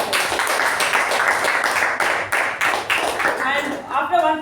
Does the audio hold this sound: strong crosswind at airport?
no